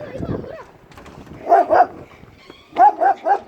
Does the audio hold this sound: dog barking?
yes